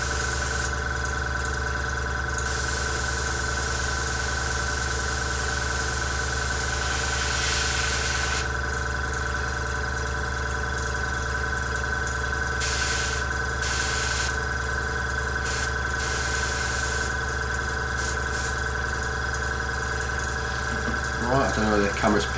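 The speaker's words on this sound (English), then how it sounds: "that's obviously the compressor's just kicked in there" An air compressor feeding an airbrush runs steadily, a constant mechanical hum and hiss with a faint rhythmic pulse, close and continuous; a voice starts in briefly at the end.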